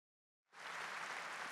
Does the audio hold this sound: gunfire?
no